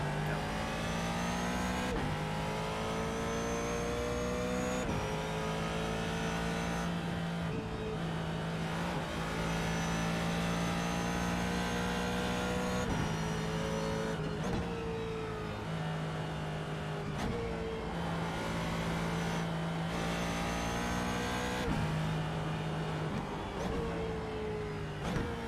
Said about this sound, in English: the car sounds so good in TV camera. Just a proper old school V8.